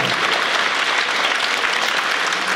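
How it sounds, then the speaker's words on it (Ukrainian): A concert audience gives sustained applause for a Ukrainian music ensemble, dense and loud clapping that continues evenly throughout, with no talk. "Аплодисменти цьому чудовому колективу!"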